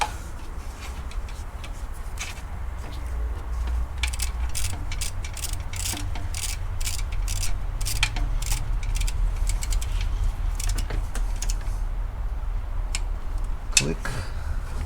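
Ratchet wrench clicking in a steady run of sharp ticks while tightening nuts during a service on a 2011 Toyota Sienna, close and fairly clear over a constant low hum.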